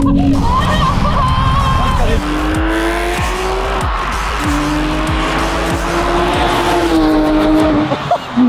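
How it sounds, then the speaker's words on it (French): A car drives fast over gravelly ground with loud, sustained tire squeal and skidding, the engine droning close by while people talk over it. "Il y a des cailloux, fais gaffe à la voiture de Pascal"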